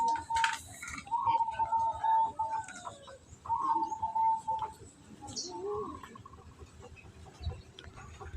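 A white zebra dove (perkutut) coos in repeated phrases amid village ambience with ticking and rustling, while a person talks intermittently close by.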